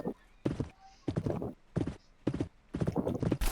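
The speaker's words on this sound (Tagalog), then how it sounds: "Sander, doon na lang tayo sa isang kabayo" Horse hooves in the Roblox game Westbound clip-clop in a quick uneven rhythm, several clustered bursts of clopping close by, with a faint tone in the background.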